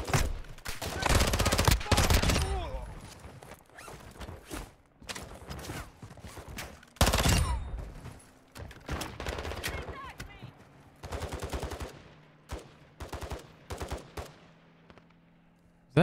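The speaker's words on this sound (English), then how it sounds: "Wait, are the bots shooting him?" Rapid bursts of automatic gunfire from bots in the DMZ game mode, loud volleys near the start and around seven seconds, then scattered shorter fainter bursts, with occasional voices in between.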